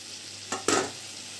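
Cut sweet pumpkin hits hot spice paste in a pan and gets stirred, two quick sizzling bursts over a steady low frying hiss, close up and with no speech.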